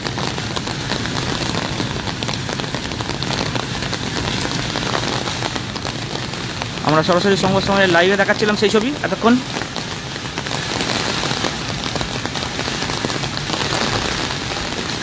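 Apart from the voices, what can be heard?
heavy rain with hailstorm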